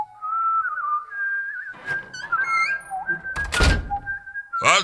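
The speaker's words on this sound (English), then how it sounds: "That's a nice whistle." A clear, melodic whistled tune wanders up and down, broken by a couple of knocks and thuds partway through.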